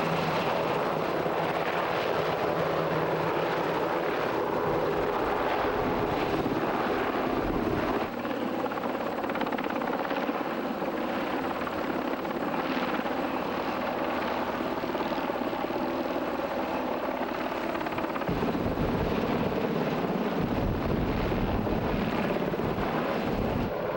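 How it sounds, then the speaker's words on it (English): Black Hawk helicopter hovering as troopers practice abseiling, a loud continuous rotor and engine roar with rhythmic blade thumping and wind buffeting, heard close and alone for the whole stretch. "Here, troopers practice abseiling from a Black Hawk."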